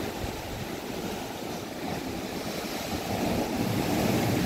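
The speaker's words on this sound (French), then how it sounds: "Il y a beaucoup de vagues." Sea waves rolling onto a small beach at a Phu Quoc resort in Vietnam, a continuous moderate wash of surf with wind noise, slightly swelling toward the end, no talk.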